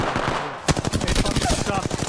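Enemy gunfire in Apex Legends: after a brief lull, a loud, rapid automatic burst of closely spaced shots rattles on steadily, with a voice talking under it.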